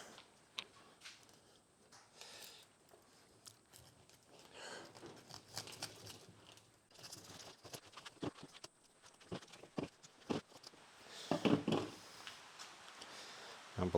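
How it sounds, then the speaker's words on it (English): Rain patters steadily outside a hot greenhouse during a plant repot, a soft scattered ticking with irregular sharper taps and a few louder bursts near the end; no one speaks. "I can't believe it's actually raining."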